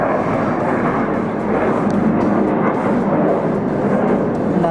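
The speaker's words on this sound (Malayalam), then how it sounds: "ഇതിൽ ഫ്ലൈറ്റ് പോകുന്നുണ്ട് അതുകൊണ്ട് ഒരു ഒച്ചയാണ് കേട്ടോ" A steady, loud roar from an airplane passing overhead, heard from indoors while fish curry sits covered in the kitchen, a broad continuous rumble that holds at the same level throughout.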